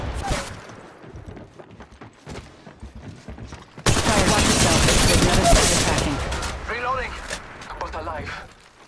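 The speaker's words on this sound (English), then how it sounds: "Opening fire." Apex Legends Mobile gunfire: scattered shots early on, then a sustained, loud barrage of rapid fire with game effects through the second half, under in-game voice lines.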